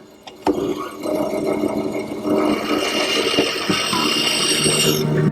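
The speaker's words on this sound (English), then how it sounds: "Now a couple more cuts at the bandsaw will complete the tenon." A bandsaw runs steadily with a whining motor hum and a gritty cutting rasp through wood, cutting a tenon, starting with a sharp knock and continuing for several seconds.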